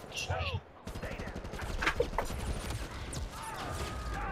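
Scattered gunshots from the video game Modern Combat Versus, several sharp cracks and pops at irregular intervals, moderately loud amid game clatter and background noise.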